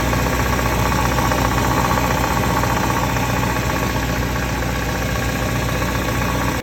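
A BMW F10 535 with the N55 engine runs with an odd, constant mechanical noise, a dense knocking drone with steady vibration, loud and close, cutting off abruptly at the end.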